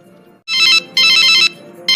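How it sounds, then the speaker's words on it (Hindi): A loud, close phone ringtone signals an incoming call, sounding as repeated bright bursts separated by short gaps, with no speech over it. "अरे अब ये किसका फोन आने लगा?"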